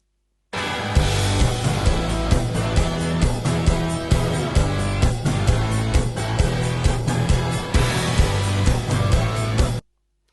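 Full-band rock song master mix, not yet limited, playing continuously with driving drums, bass and guitars, dense and steady throughout, starting and stopping abruptly with no voices talking over it.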